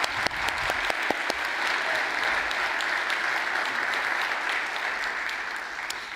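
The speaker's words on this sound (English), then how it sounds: "So a huge round of applause for Sam and faith development." A church congregation applauds during a Sunday service, a steady broad wash of many hands clapping at moderate distance, with a few sharper claps standing out near the start and fading slightly toward the end.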